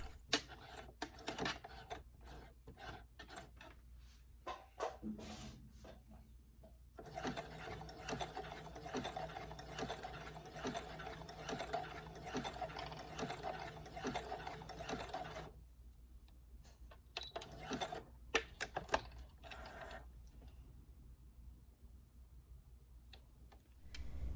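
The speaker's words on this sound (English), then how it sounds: "we can hit the presser foot and let the machine do the stitching" A sewing machine stitches a button onto fabric, with quiet bursts of rapid mechanical clatter and a sustained run of whirring stitches in the middle, separated by soft handling clicks.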